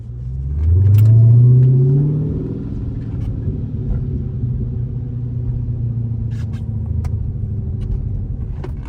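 A Dodge Hellcat driving in the rain: a loud, low engine rumble swells as the car accelerates early on, then settles into a steady road and tyre roar with spray noise. No voices.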